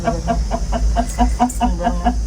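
Chickens cluck in a rhythmic series of short, close, fairly loud calls repeating about every quarter second, over a low steady background rumble with no talk.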